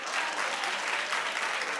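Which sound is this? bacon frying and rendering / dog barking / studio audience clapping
studio audience clapping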